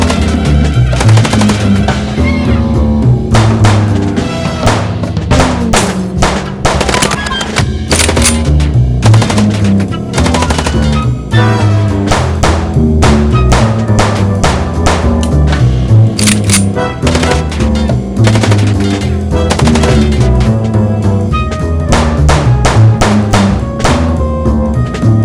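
Rapid automatic gunfire in the Chicken Police video game, fired during a car chase, loud and nearly continuous for the whole stretch in dense bursts over a steady low drone.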